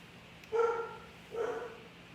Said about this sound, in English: Oh, I hear my dog.